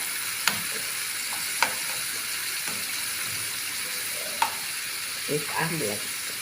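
Carrots being stirred into a beaten egg mixture for an omelette, with a few soft utensil taps against the bowl over a steady background hiss, and faint clatter near the end.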